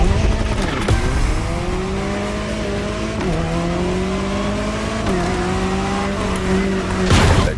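Engine of a Jaguar CX-75 concept car in The Crew Motorfest racing game, a loud steady drone with three clear upshifts that drop the pitch before it climbs again, and a brief burst of noise at the end.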